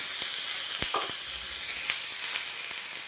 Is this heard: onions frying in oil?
yes